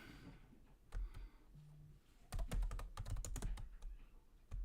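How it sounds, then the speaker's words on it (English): Typing on a computer keyboard produces quiet, close clicks, with a few isolated keystrokes at first and then a rapid, uneven flurry of taps in the second half. "Let's type that in."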